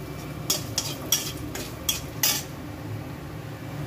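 Utensil scraping and clinking against a pan in several sharp strokes as spices and radhuni sauce fry with a soft sizzle underneath, fairly close and no talking.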